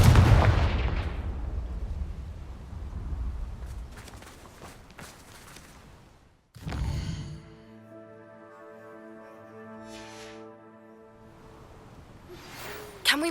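Confringo fire-spell explosions in the video game Hogwarts Legacy: a burst of booming blasts at the start and another around the middle, followed by a ringing, tonal magical shimmer that trails off.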